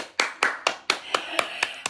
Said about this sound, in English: So clap for us.